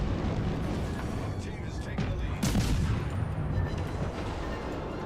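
Heavy warship guns firing during a naval battle video game, a dense low rumble of rolling salvos with a sharper burst near the middle, sustained and loud, with a voice speaking over it.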